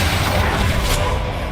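Confringo explosive spell in Hogwarts Legacy, a sustained low rumbling blast with crackling debris and a brief brighter burst partway through, loud and dense with no speech.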